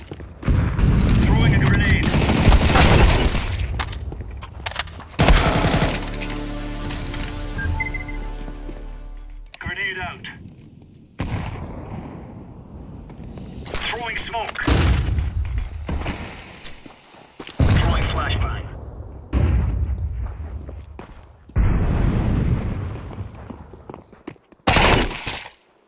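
Counter-Strike 2 gameplay, with loud bursts of gunfire and heavy booms from a grenade, broken by quieter stretches of movement and footsteps, and in-game voice lines among the action.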